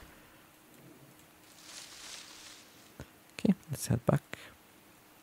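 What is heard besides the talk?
rain in the video game Card Survival: Tropical Island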